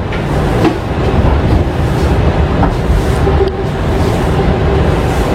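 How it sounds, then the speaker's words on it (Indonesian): Steady rumble and rattle from inside the Purwojaya executive train as it overtakes the Taksaka train at Cakung station, a continuous loud rolling roar with a few faint clanks. "kita menyusul kereta api Taksaka di stasiun Cakung"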